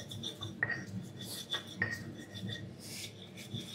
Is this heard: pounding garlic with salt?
yes